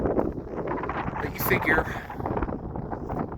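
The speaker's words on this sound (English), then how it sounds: "the gusts today are a bit speedier" Gusty wind buffets the microphone on a mountain lookout, a continuous rough rumble that swells and eases while someone speaks over it.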